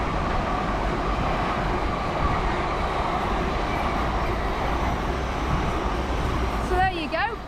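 Train rushing past along a coastal railway path near Dawlish, a loud continuous roar with rattling wheels close by, ending with a brief bird call.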